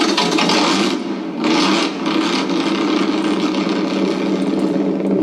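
ESS-One engine sound system playing a simulated V8 start-up and idle: a steady, dense buzzing rumble that holds throughout, with slight swells near the start, no voices.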